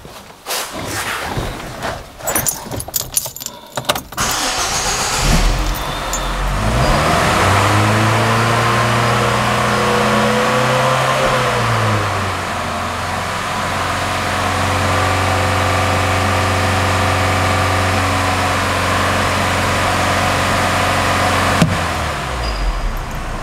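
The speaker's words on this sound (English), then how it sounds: "I'm going to start and rev the engine" After some clattering handling noises, a car engine with a P1191 fault code cranks and catches, revs up, settles, then revs again and idles steadily, loud and close.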